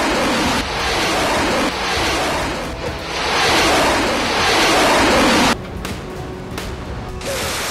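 Surf from the Black Sea in a war zone off Ukraine: a steady broadband wash of waves with gusty wind noise, loud and continuous, easing slightly after a few seconds with scattered sharper splashes.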